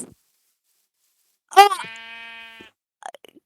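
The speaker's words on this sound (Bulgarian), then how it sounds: "Лъсва овца!" Sheep bleating in the Minecraft video game: one clear, close bleat of about a second, a steady wavering tone, followed by soft brief clicks and a short spoken sound before it.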